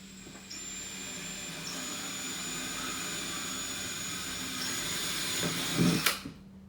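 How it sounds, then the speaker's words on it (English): Power drill boring holes to mount a Sheffield 12629 tool box on a Kioti CK3510SE tractor: a steady, close, continuous whine lasting several seconds, swelling briefly near the end before stopping abruptly, with no talking. "Now we just drill our holes."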